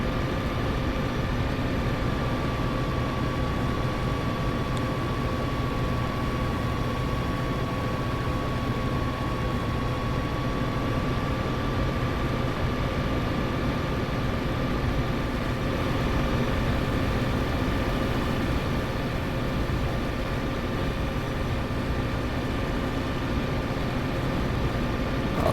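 Diesel locomotive with eight power notches like a Class 66 accelerating, heard from inside the cab as a steady, loud engine drone with a rising tonal whine, continuous throughout with no talk.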